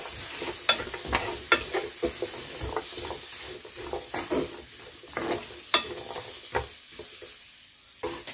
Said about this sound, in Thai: นี่ก็คั่วพริกแล้วก็หอมกระเทียมตามด้วยมะเขือเทศจ้ะ